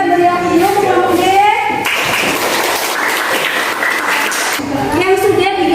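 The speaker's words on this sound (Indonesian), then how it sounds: "Kita beri aplaus dulu untuk kelompok D" Classroom applause for a student group, a short burst of clapping from a room of students, loud and close, with a teacher speaking just before and after.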